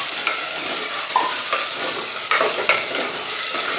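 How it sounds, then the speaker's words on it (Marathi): Prawns tossed into a pan for a prawn-head curry, sizzling loudly while a utensil scrapes and stirs through them in uneven strokes, close and continuous with no voices. "आणि आता हे कोळंबी घातलेली आहे ह्याच्यात"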